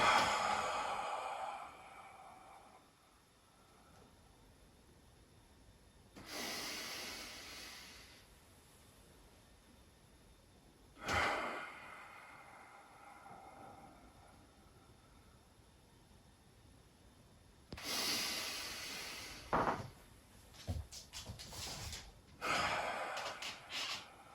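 Slow, deep breaths in and out during Yiquan standing meditation in a forward stance: several long, soft, airy inhales and exhales spaced many seconds apart, close to the microphone, with quiet gaps between them and no speech.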